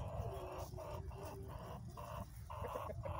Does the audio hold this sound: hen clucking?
yes